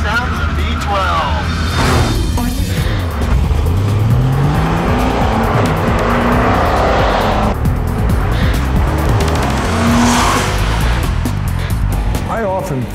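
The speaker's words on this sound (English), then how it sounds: "I love the sound of the V12." A 1962 Ferrari 250 GTO's V12 revs and drives on a track, loud and close, pitch rising and falling through gear changes with tire noise, as people talk over it.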